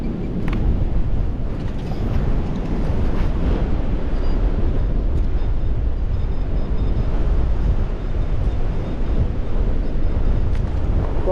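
Strong wind buffets a microphone on a very windy beach, a loud, continuous rumbling roar with no let-up, and no voices.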